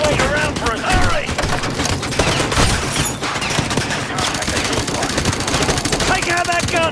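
Sustained machine gun fire from a first-person shooter battle in Call of Duty: Modern Warfare 2 Remastered, loud rapid bursts that run almost continuously, layered with explosions and shouted voices.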